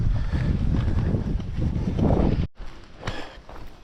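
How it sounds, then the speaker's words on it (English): A strong wind roars and buffets the microphone on a hiking trail, a loud continuous rush that cuts out briefly and then returns more gently. "A little windy here."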